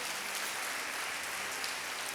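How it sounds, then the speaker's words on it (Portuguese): A church congregation applauds the Lord during a sermon, a dense, steady wash of clapping that holds at an even level throughout. "Pode aplaudir o Senhor"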